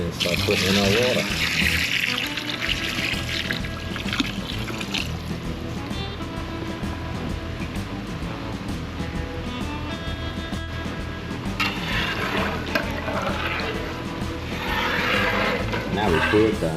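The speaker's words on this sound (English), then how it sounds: "And then start putting in our water." Water is poured slowly into a pot of pork and smoked sausage jambalaya, a continuous trickling splash heard close by while people talk over it.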